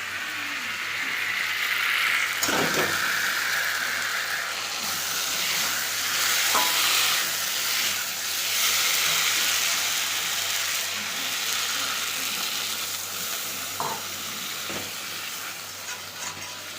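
Fish curry with aubergine, potato and lentil dumplings sizzles and fries steadily in a pan, with a continuous close hiss and occasional scrapes and knocks of stirring.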